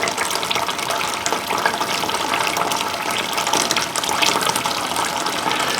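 Liquid drains off a malted grain mash being made for single malt whiskey, a steady continuous pouring and splashing rush that runs loud and close for the whole stretch, with no talking.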